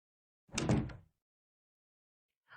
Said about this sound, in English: I slowly closed the door and went inside.